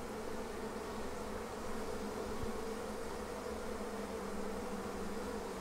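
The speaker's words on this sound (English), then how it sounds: "now we're just going to share what's going on through the observation hive to show you what it looks like when workers swarm out" Honey bee workers swarming out of an indoor observation hive make a dense, steady buzzing drone that stays close and even throughout, with no talk over it.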